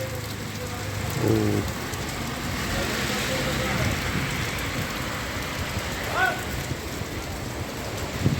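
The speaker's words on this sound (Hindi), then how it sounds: "अच्छी बारिश है, कल भी बारिश थी" Heavy rain pours steadily beside a canal in Roorkee, a dense hiss of drops on surfaces, with someone speaking briefly and a couple of faint passing sounds in the background.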